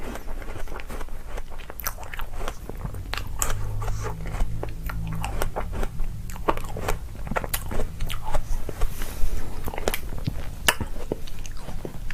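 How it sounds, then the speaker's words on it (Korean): Biting and chewing of a partly frozen strawberry milk fresh-cream cake, close and crisp: repeated sharp crunches and icy crackles with soft, moist mastication between them, heard alone without talk. "오늘은 투썸 플레이스 우유 딸기 우유 생크림 먹어볼게요"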